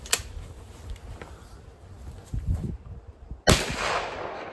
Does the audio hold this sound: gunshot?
yes